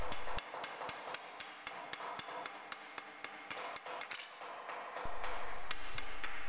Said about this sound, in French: Il faut apporter un soin particulier à la régularité des frappes, et sur la surface de la pièce, et sur le dosage des coups portés.